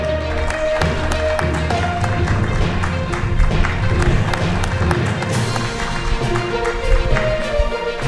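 Audience applause at an award ceremony, steady dense clapping from a crowd that keeps a constant level throughout, mixed with a sustained musical tone under it.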